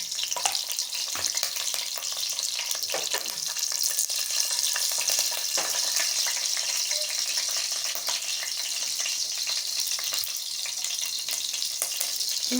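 Green chillies crackle and spit in hot oil in a pan, giving a steady, loud sizzle with a few sharper pops and spatters, close and without talk.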